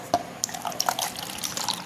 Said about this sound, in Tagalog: Kung linagyan ng malamig na tubig